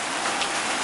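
Rain on a road journey makes a brief, even wash of loud hiss with no gaps and no talking.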